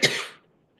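A single short, sharp cough, close and fairly loud, fades quickly into near silence.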